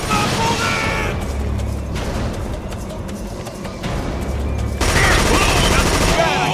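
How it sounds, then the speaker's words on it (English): Heavy automatic gunfire in the Killzone 2 shooter game's Suljeva Village level, loud continuous bursts with booming impacts and brief lulls, dense and close throughout. "I'm taking heavy fire! Eat my bullets!"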